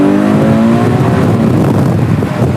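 A Ferrari 812 GTS with a Novitec exhaust pulls hard, its V12 roaring loud and close as the pitch climbs steadily through a full-throttle run, with a thick, dense engine note and no talk.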